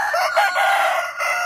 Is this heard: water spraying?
no